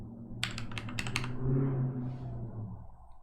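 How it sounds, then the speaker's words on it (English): Someone types blind on a computer keyboard during a stream, a quick cluster of crisp key clicks near the mic over a low room hum, then the tapping stops. "Blind typing."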